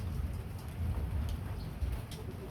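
Heavy rain pours steadily outdoors during a sudden early-spring storm, a dense, constant roar with faint bird calls in the background and no voices.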